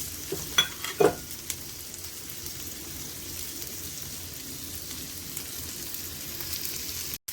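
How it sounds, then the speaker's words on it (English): Shrimp frying in a pan for a spicy cabbage fried rice, a steady soft sizzle that runs the whole time, with a couple of brief utensil knocks near the start and no talking. "the shrimp has been cooking for about 5 to 8 minutes"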